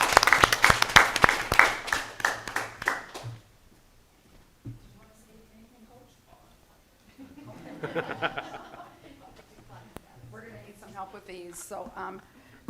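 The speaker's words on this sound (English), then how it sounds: "let's give them one more round of applause if we could" A school board meeting audience gives a burst of loud clapping for about three seconds, which then stops. Quiet talk, chuckles and more speaking voices follow.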